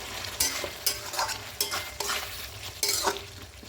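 Chicken cooking with tomato and no onion, stirred and sizzling in a pan; a steady fry hiss with repeated scraping strokes of a spoon at a regular rhythm, close and clear.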